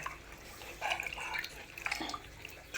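Water trickles and splashes into a pan of roasted-coconut chicken curry, a faint, uneven pouring and dripping sound in a quiet kitchen.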